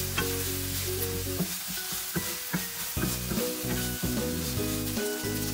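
Chili sizzles in a frying pan while Goan mackerel fish cutlet mixture is prepared, with steady crackling frying noise and stirring scrapes throughout, a sustained tonal music bed underneath.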